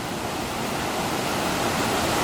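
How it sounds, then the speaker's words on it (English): Water rushes steadily through lock number 11 of the second Welland Canal, a dense, continuous roar heard from behind a fence, with no voices. "There is a fair amount of water flowing through here."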